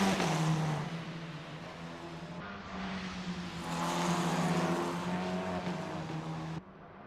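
Formula 4 race cars at the Estoril circuit roar past with loud, sustained engine notes that climb and drop as the drivers shift, brake and accelerate, with one brief dip mid-run.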